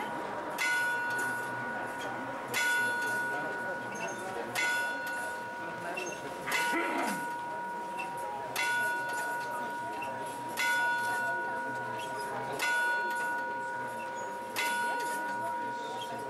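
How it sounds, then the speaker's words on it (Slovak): Bells chime from the astronomical clock at Stará Bystrica, Slovakia, ringing at a steady outdoor pace about every two seconds, with clear sustained tones over a murmur of crowd and street ambience. "aj sa zvoní hore"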